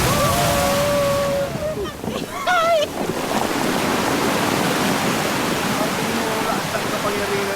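Loud, continuous rush of churning sea water fills the scene, with a brief whoop-like voice rising over the roar partway through.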